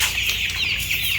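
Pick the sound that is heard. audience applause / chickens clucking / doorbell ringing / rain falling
chickens clucking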